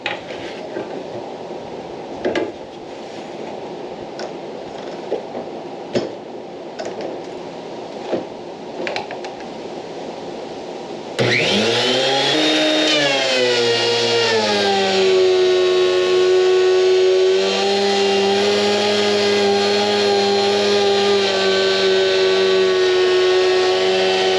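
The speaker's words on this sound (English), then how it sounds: "I'm hoping I could use this planer to push it through and take off enough to get rid of that" A thickness planer starts up and runs, feeding a damaged grooved board through; a loud steady motor whine with harmonic tones rises abruptly after a quieter stretch of faint clicks, then continues at full volume with shifting pitch as the board is cut.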